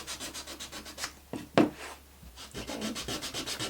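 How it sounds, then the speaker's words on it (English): A sanding disc rubs and grinds stenciled chalk paint off a tissue box in rhythmic passes, with a sharper scrape midway, close and fairly loud. "just sand some of that paint off"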